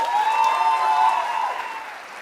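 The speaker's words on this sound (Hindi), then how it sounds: "अपने लिए तालियां डियर" An audience bursts into steady applause, a dense wash of clapping that holds for about two seconds before slowly thinning out.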